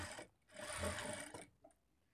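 A sewing machine stitching a blouse lining, one close, steady mechanical whir that runs for about a second, then stops with a faint click of handling.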